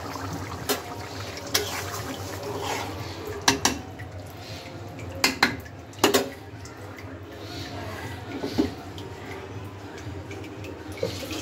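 A pot of stingray-style singi fish curry is lifted off a home stove, with sharp clanks and scrapes of metal on metal scattered over a low steady background hum, no talk.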